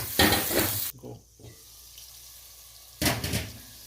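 Onions frying and sizzling in a pot of oil, loud close crackling bursts at the start and end with a quieter gap between, no talk.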